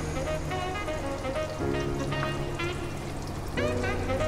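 Aloo kebabs fry in hot oil with a steady crackling sizzle, while brief clinks and scrapes of a utensil turning them come through at moderate loudness.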